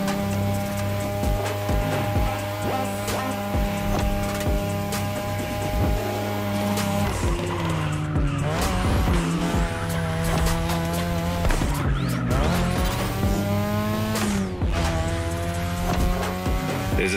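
Game engine and tire squeal from a third-generation 2002 Mazda RX-7 racing in The Crew Motorfest, steady loud revving with sliding squeals and gear changes under game music throughout.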